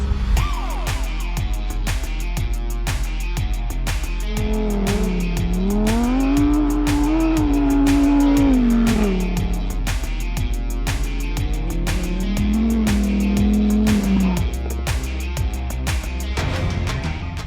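A Lamborghini Huracan Sterrato, the off-road rally version of the Huracan, drives hard on a loose surface, its engine note rising and falling through gear changes with strong steady mechanical rumble and brief scrabbling bursts, loud and close throughout.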